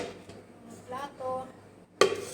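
Plates and pots clatter as dishes are washed by hand in a home kitchen, with a few scattered knocks and a sharper clink at the end, close and moderately quiet.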